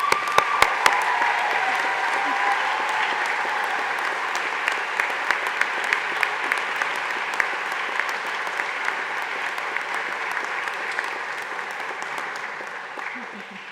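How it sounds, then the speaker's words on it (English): An audience applauds the graduating class at a Baylor Law summer commencement, producing a dense, sustained wash of clapping across a large hall that stays steady and loud throughout, with a few sharper individual claps standing out. "let's applaud them one more time as a class."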